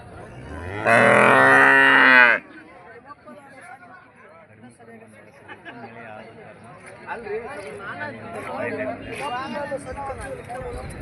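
A cow gives one loud, close, sustained low at a crowded cattle market in Lakshmeshwar, followed by a steady hubbub of people chattering and livestock shuffling.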